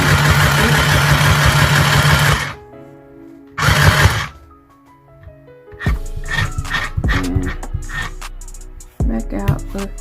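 A Singer Stitch Quick mini sewing machine runs in bursts: a loud, steady motor whir for about two seconds, a shorter burst, then quieter mechanical clicking and rattling as fabric is handled, with another short run at the end.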